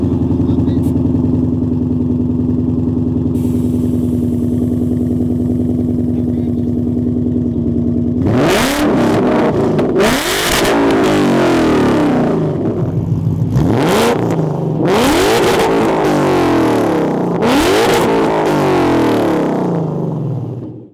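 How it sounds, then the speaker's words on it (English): 2015 Ford Mustang GT with a Whipple supercharger and stainless long-tube headers exhaust, idling with a steady low drone before loud, close revs rise and fall in repeated blips. "the exhaust note this car gives off is just so satisfying"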